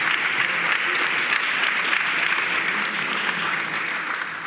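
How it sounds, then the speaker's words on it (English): Sustained applause from a large conference audience for a panel of speakers, steady and dense clapping that fills the whole stretch without letting up. "join me in a big applause for these speakers"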